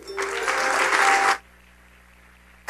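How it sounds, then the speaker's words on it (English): An audience claps in a burst of applause lasting just over a second, then goes quiet before clapping resumes briefly at the end. "Can we give another round of applause, please?"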